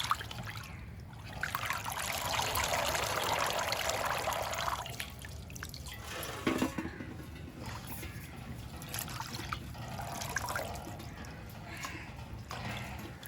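Water trickles and pours over freshly washed choriyanam (kodithoova) leaves and stems as they are rinsed twice in fresh water and left to drain, a steady close splashing that swells and fades.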